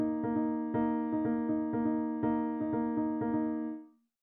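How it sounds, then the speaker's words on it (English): Harmonic instrument tones, likely piano, play a 4-against-3 polyrhythm, four sixteenth notes set against an eighth-note triplet. The evenly pulsed, overlapping attacks repeat for about four seconds, then a sustained note rings out and fades. No voice is heard. "Another common polyrhythm is the 4-3 polyrhythm. It is usually created by 4 16th notes and an 8th note triplet."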